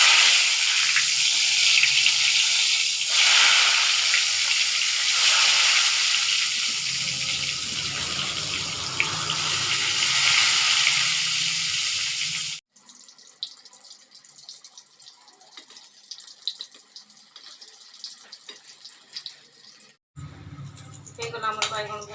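Cut eggplant is washed under running tap water, a steady splashing stream for about twelve seconds, then quieter kitchen handling, with a voice speaking throughout.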